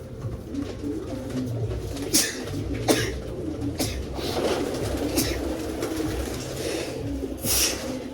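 Birds coo softly in low repeated phrases, with a few sharp clicks and rustles scattered through, close by and fairly quiet.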